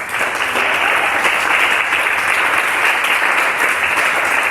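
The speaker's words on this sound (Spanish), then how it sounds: "Dele un fuerte aplauso al Señor." A church congregation claps loudly and steadily, a dense sustained round of applause filling the room without pause from start to finish.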